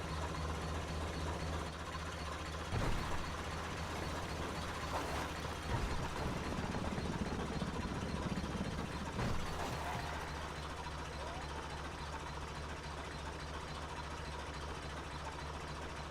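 An old tractor engine in GTA 5 chugs steadily throughout, a low, rough idle with a few louder knocks and clanks along the way.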